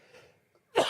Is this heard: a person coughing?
yes